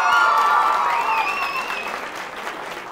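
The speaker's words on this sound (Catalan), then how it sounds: "Un aplaudiment." Studio audience applause on a Catalan TV word-game show, loud at first with some cheering voices over it, then easing off over three seconds.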